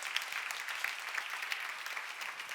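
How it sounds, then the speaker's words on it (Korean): A church congregation at a Korean worship service claps hard and fast, a dense, steady patter of many hands that runs on without a break at moderate distance. "박수 세게 쳐"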